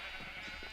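A Minecraft sheep bleats on a sheep farm in the video game, a short faint wavering call under a low hum.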